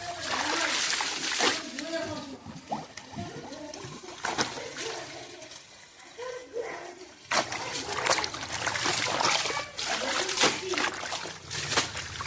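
Well water splashing and trickling during early-morning washing of clothes, with repeated close splashes and pours while a person talks over it.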